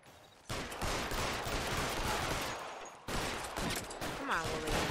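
Gunfire in the LA Noire video game comes as dense, continuous shooting that runs on for several seconds, with a brief break partway through and no clear voice over it.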